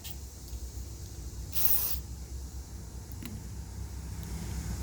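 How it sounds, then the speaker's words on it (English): Against a low steady rumble, a short burst of carburetor cleaner sprays from a can onto a Briggs mower carburetor, hissing for about half a second, close and fairly loud. "So now I'm going to take my can of carb cleaner and I'm going to spray this really good."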